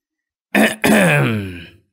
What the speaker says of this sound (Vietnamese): mụ hắng giọng